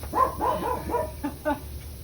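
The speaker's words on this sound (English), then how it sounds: "that's our neighbor's dog." A neighboring dog barks several times in quick succession, a short rhythmic run of yips at moderate distance, then two more separate barks, heard outdoors beside a backyard compost pile.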